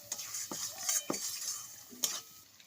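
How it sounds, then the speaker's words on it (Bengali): Spoon stirring turmeric and salt into spices for potol dorma, a series of light scraping taps and clinks against the pan, close and fairly quiet, with no talking. "খুব ভালো করে মিশিয়ে নেব মশলার সঙ্গে।"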